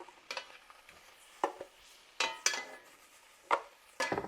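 Tomatillos sputter and sizzle in a hot pan, with faint crackling and sporadic sharp pops and clinks at uneven intervals in an otherwise quiet kitchen.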